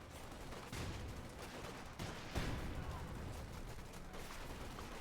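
A Company of Heroes 2 skirmish, OKW against USF with a .50 caliber machine gun in tow, plays as a quiet, continuous wash of rattling gunfire and distant shots with a few sharper bursts. A voice comments throughout.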